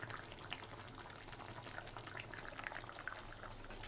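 Khichuri with a potato curry gravy, the potatoes cooked down soft, simmers at a steady low bubble, a faint continuous gurgling and popping with no talk over it.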